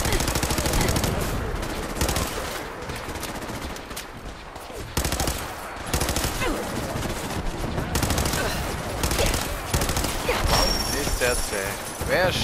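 Heavy gunfire rattles through a large battle in Fallout 4, dense automatic bursts and overlapping shots running continuously with a voice speaking over the chaos.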